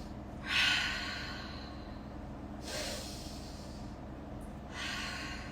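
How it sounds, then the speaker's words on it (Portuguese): Three deep, audible breaths during a belly dance exercise session for someone with fibromyalgia, each a soft airy exhale with a pause between them, close and alone. "Respira, trabalha a respiração com seu aluno."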